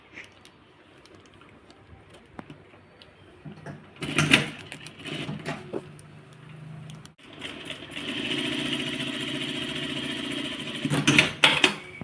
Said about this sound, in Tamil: இப்படி வச்சு லைட்டாக இழுத்து நம்ம தைக்க போகிறோம்.